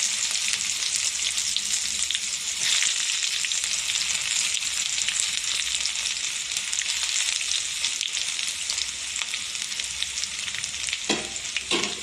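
Mustard seeds fry in hot oil in a pan with a steady, close sizzle and crackle that runs unbroken for twelve seconds, with no voices.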